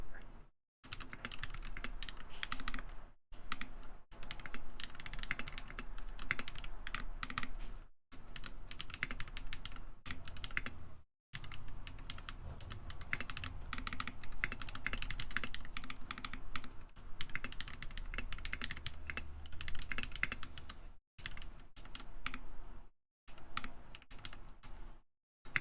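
Continuous fast typing on a mechanical keyboard with hand-lubed Glorious Panda tactile switches and Infinity Cabernet keycaps, soft tactile clacks in dense bursts, close up, with several short pauses between runs.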